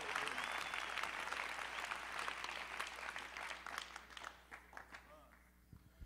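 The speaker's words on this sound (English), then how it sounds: "if you believe that, clap your hands unto the Lord." A church congregation bursts into loud, dense hand clapping, a sustained roar of many hands that fades toward the end as a voice speaks over it.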